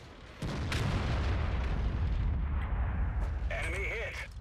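Artillery gun firing in the World of Tanks video game, a heavy boom opening into a sustained rumbling roar that fills the clip, with a higher ringing effect near the end.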